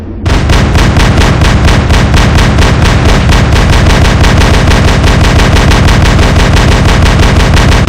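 Heavy robot-mech guns in a video game pound out a rapid, continuous stream of shots, loud and relentless from start to finish with no talk over it.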